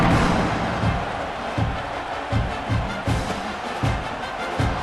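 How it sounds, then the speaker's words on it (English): A stadium crowd in the College Football 26 video game roars in a dense, sustained wash of cheering, with repeated low thumps pulsing through the steady noise. "this crowd is feeling themselves after that last drive"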